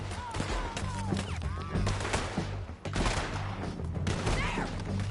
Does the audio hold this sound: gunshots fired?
yes